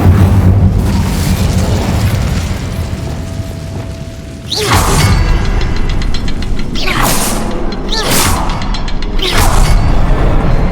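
Fire spells cast in the Hogwarts Legacy video game: a rumbling, mechanical ambience breaks into several loud, whooshing fiery bursts, one after another, with no talking.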